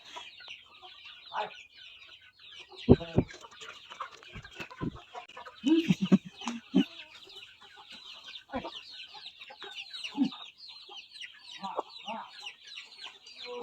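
Backyard farm chickens cluck while being fed, scattered soft clucks and short calls over a steady high chirping of birds, with a few louder thumps and nearby bursts of activity.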